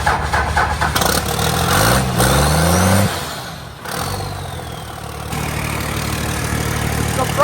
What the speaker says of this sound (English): Surprisingly, it started right up.